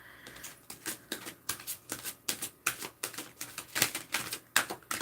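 A deck of cards riffles and flicks in quick, regular crisp bursts, close and fairly loud, with no talking.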